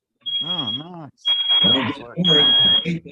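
A high, steady electronic beeping tone from an airport gate runs through most of a short stretch, repeating in long bursts beneath several people talking nearby.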